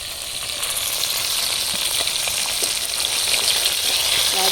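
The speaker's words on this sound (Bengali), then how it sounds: "মাছ ভাজা হচ্ছে এখন" Fish frying in a pan in a home kitchen, a continuous steady sizzle and crackle of hot oil with faint scattered pops, close and unbroken throughout with no talk.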